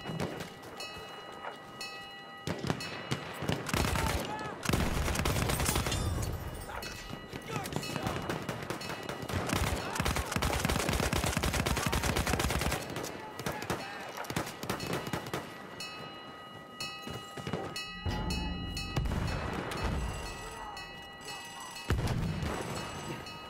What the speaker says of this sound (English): Wait for the enemy artillery barrage to stop firing.